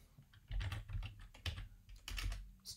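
Fingers type on a computer keyboard in short quiet bursts of key clicks with brief pauses, close up and with no talking.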